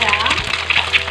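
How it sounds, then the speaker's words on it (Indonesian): An egg fries in a pan for fried rice, a loud close sizzle with stirring scrapes. "sekarang kita goreng lagi telurnya ya"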